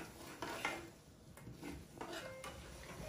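Seeds being fried and stirred in a pan for homemade hair oil, with soft scraping and clinking of a utensil against the metal pan, quiet and steady with faint sizzle underneath.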